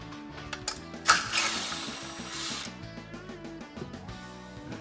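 A ratchet wrench backs out 8mm bolts from an engine bracket on a Mazda CX-9 2.5-liter turbo four-cylinder, giving a brief hiss-like burst followed by a string of quiet, close clicking ratchet strokes.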